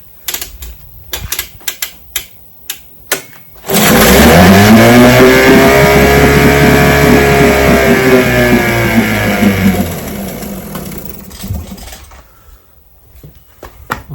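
A vintage outboard motor starts abruptly after quiet clicking and rattles, then runs loudly and steadily for several seconds before dropping back toward idle.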